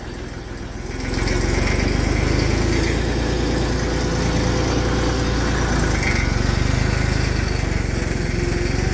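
A small Massey 35 tractor hauling a sugarcane trolley toward a sugar mill runs with a loud, steady low engine chug that rises after a second and holds evenly to the end.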